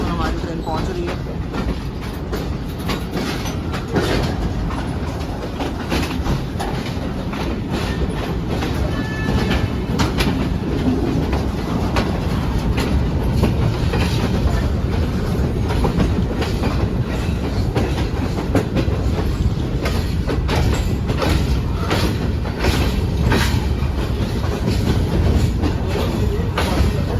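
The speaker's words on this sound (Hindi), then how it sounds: "हमारी ट्रेन पहुंच रही है" Inside the AC car of the Shalimar Express between Karachi and Lahore, the train pulls into a station with constant loud rumbling and repeated clickety-clack of wheels over rail joints, heard close throughout.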